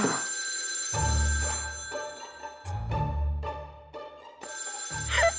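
A telephone rings in repeated trilling bursts over a low rumbling background, with a few sharp knocks in between, fairly loud and near.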